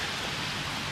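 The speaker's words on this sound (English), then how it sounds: "Pouring." Heavy rain pours steadily in Cleveland, Ohio, a dense, unbroken hiss of drops hitting surfaces, constant and fairly loud throughout with no voices.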